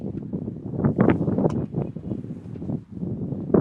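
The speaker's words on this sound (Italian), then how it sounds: "Nel frattempo continua il vento, c'è veramente un vento incredibile oggi questo pomeriggio." Strong gusty wind buffets the microphone at an outdoor under-16 football match in Sicily, a loud, uneven low rumble surging and easing in bursts with no clear voices.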